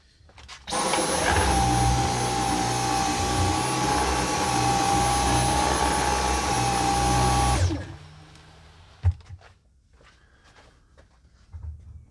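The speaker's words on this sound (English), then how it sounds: "test these guys with a little bit of powder just to make sure that everything's vacuuming up right" A Dyson V10 cordless vacuum cleaner runs loudly at a steady high-pitched whine for about seven seconds while sucking up powder, then shuts off, followed by a few faint handling clicks.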